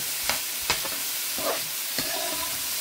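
Onions frying in a pan, a steady soft sizzle broken by a few short clinks and scrapes of stirring, close and moderately quiet with no talking.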